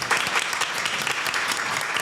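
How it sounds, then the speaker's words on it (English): Steady, dense applause from a crowd, loud and continuous throughout with no pauses. "Give them a round of applause."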